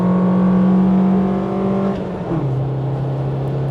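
Engine of a Nissan Sunny truck (Datsun 1200) accelerating on the freeway, a loud steady drone that drops in pitch around a gear change and then settles at a lower, even hum.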